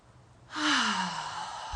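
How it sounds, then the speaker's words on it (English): A single deep, slow exhale during a guided meditation breathing exercise, close and breathy, rising quickly then trailing off gradually, heard alone without any talking. "Continuing to go through that breathing process."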